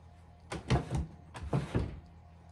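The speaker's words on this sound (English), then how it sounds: "underneath my hooser, I have a pull-out drawer" The pull-out drawer of an antique Hoosier kitchen cabinet slides open and shut twice, each time a close wooden rumble ending in a soft thunk.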